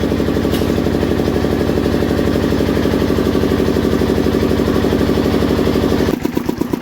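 A generator engine runs at a steady, throbbing idle close by, loud and continuous, its rhythm turning rougher and choppier near the end as if shutting down.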